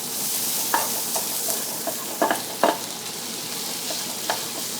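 Bacon fries in a pan over a blue gas flame, a steady soft sizzle broken by a few sharp pops and scrapes of stirring. No one speaks.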